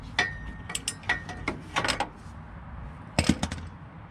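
Ratchet wrench working a bolt out of the exhaust manifold on a 1965 Ford Falcon: several short bursts of quick clicking ratchet strokes, close and fairly quiet, separated by brief pauses.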